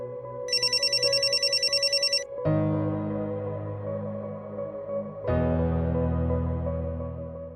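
A telephone rings on an outgoing call: first a rapid electronic trill, then two long, loud, steady ringback tones separated by a short pause, near and clear.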